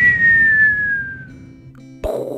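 A voice imitates the cartoon falling whistle of a coyote dropping into a ravin, a long descending whistle fading out, then a short burst of voiced noise as a mock impact.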